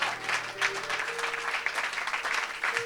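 Church congregation applauding during a Sunday sermon, continuous broad clapping filling the room, with a voice speaking briefly over it.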